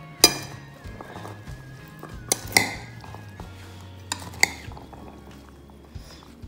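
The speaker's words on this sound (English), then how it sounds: "I'm gonna mix some potatoes" Boiled potatoes being mixed in a bowl for chana chaat, with a spoon clinking and scraping against the dish in irregular knocks and a soft stirring sound, over a quiet kitchen hum.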